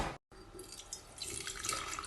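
Cold water is poured from close by onto about 3 grams of tea in a large jar, a soft, continuous splashing trickle that grows slightly fuller, with no voices.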